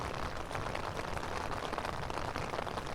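Steady rain falls and patters on pavement at Court Square in Long Island City, a dense, even hiss of drops throughout with no voices.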